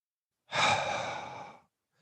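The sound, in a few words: deep exhalation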